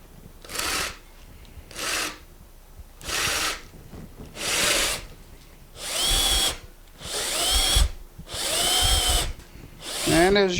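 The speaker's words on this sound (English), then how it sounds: "I'm drilling into the wood pretty well here." Eight bursts of a power drill whining into a wooden bowl blank for lathe mounting, each a second or so long with short pauses between, the later ones louder and longer.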